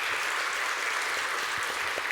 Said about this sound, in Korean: 우리 한번 박수 한번 하도록 하겠습니다.